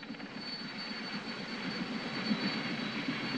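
A steady, droning engine roar from a helicopter, constant and fairly loud with a faint high whine, no voices.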